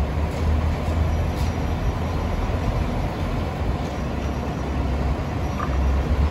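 A train rumbles steadily as it slows on the rails arriving at Mojiko terminal station in Japan, a low continuous mechanical drone with faint squeaks, no voices.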